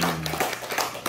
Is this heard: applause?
yes